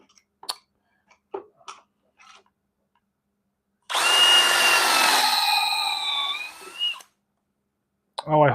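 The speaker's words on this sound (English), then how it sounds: "So the back will get holes drilled into it." Power drill boring holes into the back of a wooden piece: one sustained whining burst of about three seconds with the pitch sliding down as it bites, between scattered handling clicks and knocks.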